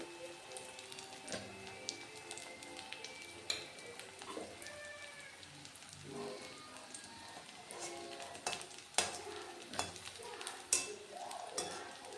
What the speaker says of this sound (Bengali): এটা কম তেলে কম আঁচে আস্তে আস্তে ভেজে নিতে হবে।